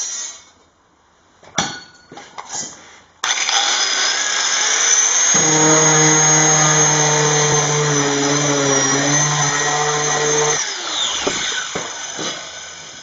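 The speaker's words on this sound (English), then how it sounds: "so I have some more sanding to do" A steady, loud power-tool whine runs for several seconds after a few taps and clicks while sanding a high spot on a Ford F-150 door skin panel, then cuts off.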